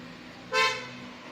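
A single short car horn toot sounds once near the middle, loud and close, over a quiet background hum.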